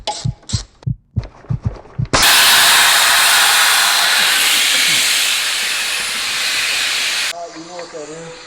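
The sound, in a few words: car air conditioning hissing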